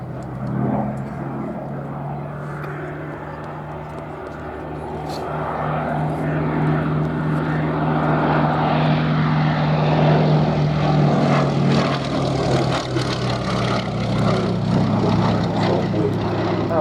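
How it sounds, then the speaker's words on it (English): A propeller aircraft powered by a Bristol Mercury air-cooled radial engine flies by at a military airshow, with a steady loud droning roar that slowly builds and swells as it passes. "Powered by a Bristol Mercury air-cooled radial engine"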